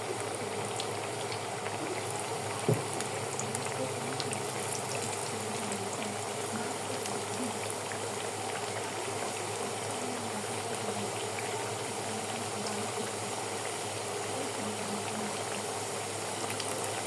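Egg and potato mini puris fry in hot oil, a steady fine sizzling crackle with bubbling, close and continuous, with one small knock partway through.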